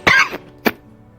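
A man coughs once harshly and then gives a second shorter cough after a brief pause, close and loud against a quiet background, after coughing up a bullet and blood.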